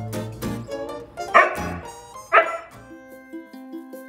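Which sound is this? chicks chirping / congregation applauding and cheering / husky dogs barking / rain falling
husky dogs barking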